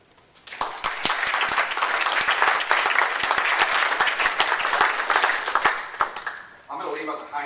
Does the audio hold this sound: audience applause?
yes